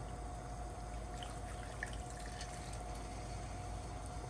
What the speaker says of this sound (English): So I'm gonna go ahead now and add my water.